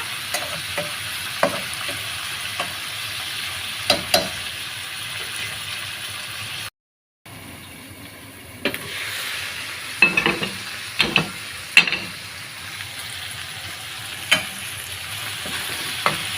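Tomato pieces fry in a pan for an okra and peanut tamarind stew, with a low continuous sizzle close up, punctuated by sharp ladle taps and scrapes and one brief silent gap midway.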